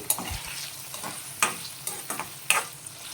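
A spatula stirs bitter gourd slices frying in a pan, giving a few scattered scraping clicks and soft sizzles at close range with no voices.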